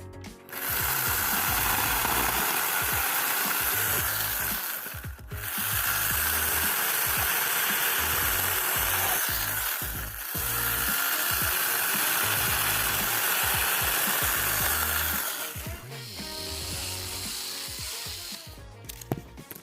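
An INTERTOOL WT-9110 cordless mini chainsaw with a sharp chain cuts apricot wood, a loud buzzing whine of the motor and chain biting through in four long sustained passes, each separated by a brief dip as the cut pauses.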